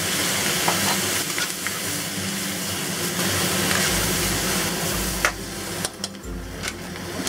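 Eggs with black fungus, yellow chives and chili tossed in a hot wok, a steady loud sizzle with scraping stir strokes and a few sharper clanks near the end, no voices.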